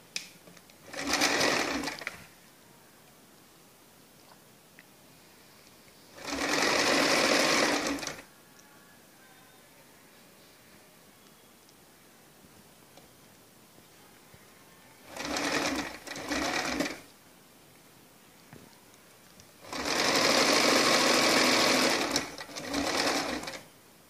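Sewing machine stitching a strip onto blouse fabric, running in four loud bursts of about one to four seconds each, with quiet pauses between runs.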